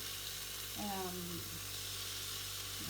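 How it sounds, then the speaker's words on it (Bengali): Salmon fries slowly over low heat in a pan, a soft, quiet sizzle running throughout, with a brief voice murmuring partway through. "স্লো কুকিং হবে হ্যাঁ স্লো হিটে"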